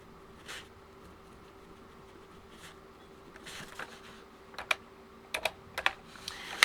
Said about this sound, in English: take that off of my calculator here